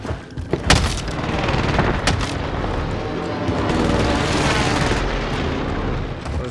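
Booming explosions from an airstrike in Call of Duty Warzone roll on for several seconds as a dense, continuous rumble, with a couple of sharper blasts near the start.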